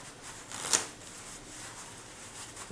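A single quiet riffle as a belly stripper deck of playing cards is given a Hunter shuffle, a brief papery burst over a soft background hiss.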